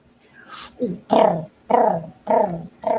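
Dog growling in a home, a run of four or five rough, throaty growls in short bursts, close and fairly loud.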